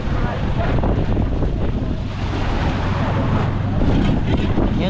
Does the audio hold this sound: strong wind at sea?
yes